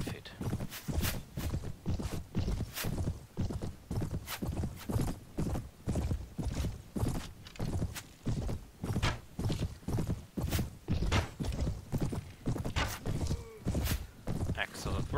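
Horse hooves clip-clop in a steady, rhythmic walking pattern in the Mount & Blade video game, loud, close and continuous, with occasional thunks and a brief whinny mixed in.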